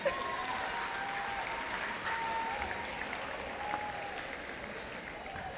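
A school audience in Twinsburg applauds steadily, with scattered cheers and whoops rising through the dense, continuous clapping.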